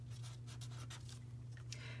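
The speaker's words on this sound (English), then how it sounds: "So I'm going to write that down." Pen scratching across paper in quick, short strokes while taking notes for a junk journal, faint and close over a low steady hum, with no talking.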